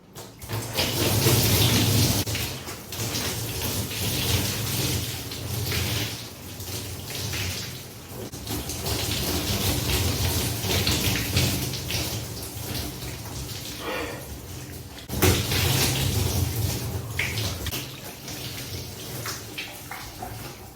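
Running water from a tap splashes steadily while rinsing out type 4B natural hair on wash day, a continuous close shower-like hiss with uneven surges and no talking.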